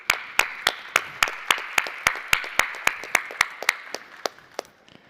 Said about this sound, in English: a quick applause for these guys here